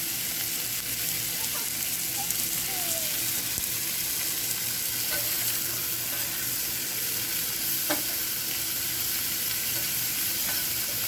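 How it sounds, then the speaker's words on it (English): Loud, continuous sizzling and crackling of onions and rice frying in a hot pan, with occasional stirring scrapes and no talking. "That's a loud sizzle."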